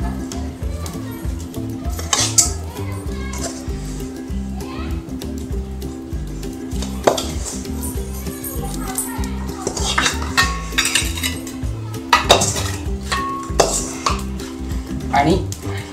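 Laddu mixture being scraped out of a wok into another vessel, with metal utensils clanking and scraping against the pan in repeated bursts over a steady background of music.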